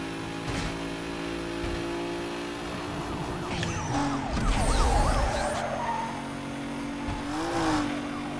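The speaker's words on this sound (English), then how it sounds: "hope you guys like these cop chases" Tires skid and squeal during a police car chase in Need For Speed Most Wanted, with engines revving loudly underneath and a long screeching slide swelling in the middle.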